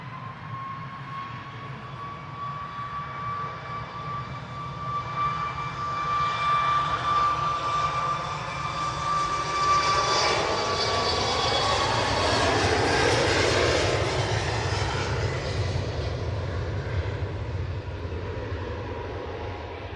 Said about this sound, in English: Ryanair 737 MAX 8 off to Lisbon.